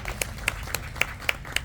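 A few people clap at a regional PR agencies gathering, a thin, sparse patter with distinct sharp claps landing roughly every quarter second over a low background hum.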